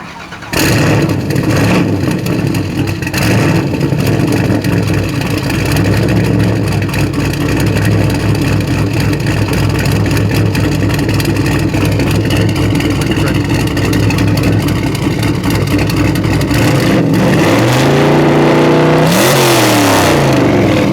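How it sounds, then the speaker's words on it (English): A loud 1992 Chevy Camaro RS Z03 engine making 1400 hp rumbles heavily, then revs up with rising and falling roars near the end, very close. "Can we hear how the car sounds?"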